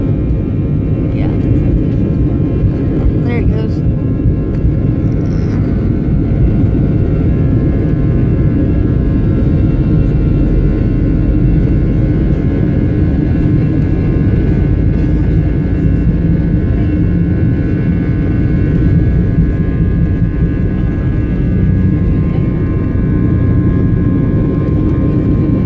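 An airliner's jet engines roar steadily during takeoff as heard from inside the cabin, a loud continuous low rumble with a faint high whine, on a flight heading back to LA.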